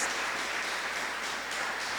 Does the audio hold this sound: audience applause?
yes